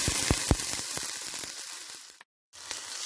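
A pan of fried capsicum with soy sauce sizzles and crackles loudly after a glass of water goes in, then cuts out briefly before resuming, with no talking.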